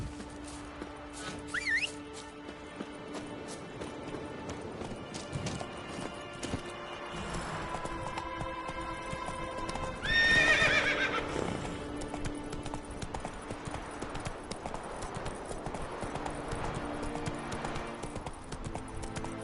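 Horse Roach galloping in the video game The Witcher, with quick rhythmic hoofbeats, a brief whinny in the middle and faint game music beneath.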